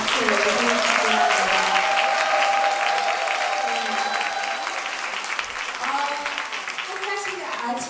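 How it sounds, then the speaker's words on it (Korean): Warm, sustained applause from a conference audience fills the room, steady dense clapping throughout while a speaker talks over it. "다시 한번 감사의 뜨거운 박수 보내드립니다"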